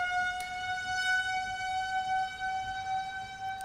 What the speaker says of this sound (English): Tornado sirens are going off here.